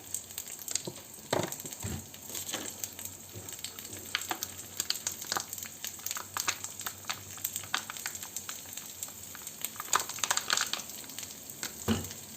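Rice toasting in butter in a pan for chicken maqluba, stirred steadily, giving a continuous close sizzle broken by scraping strokes and soft crackling bursts, with no talk.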